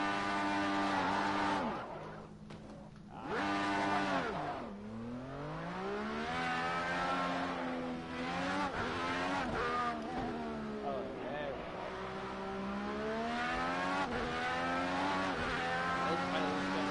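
Car spinning out in a PS4 racing video game, loud sustained engine whine rising and falling in pitch with tire squeal, playing continuously and alone without talk.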